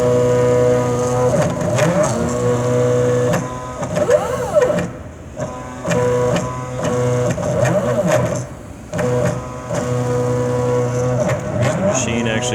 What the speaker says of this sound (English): There's the machine actually bouncing through the code.